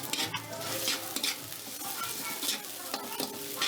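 Chicken feet adobo is stirred in a sizzling pan, with a soft steady hiss and repeated scraping strokes of the spoon, fairly quiet and close.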